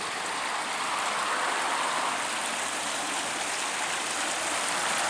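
Garden waterfall in desert landscaping, a steady broadband rush of falling, splashing water heard close and continuous without any voices.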